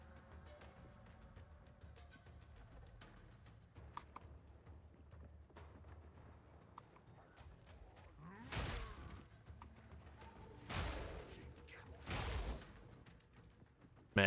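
Herald explosion pops in the Path of Exile 2 video game, three soft bursts a second or two apart near the end of the clip over faint game ambience and light clicking.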